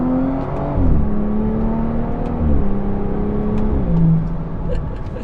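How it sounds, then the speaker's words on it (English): A BMW F30 340i fitted with an AWE touring exhaust accelerates hard in sport mode, heard from inside the cabin as a steady engine drone that climbs in pitch through several gear changes, with no one talking. "we're going to go ahead and take the time to provide you guys some sound clips as far as what we've got going on in cabin"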